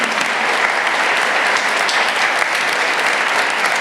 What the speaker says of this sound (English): give a wonderful applause to